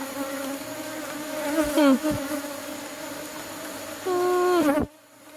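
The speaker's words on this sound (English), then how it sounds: "the Africanized bees get agitated regardless" Steady droning buzz of many Africanized honey bees swarming close by, with a louder surge near the end before it cuts off abruptly.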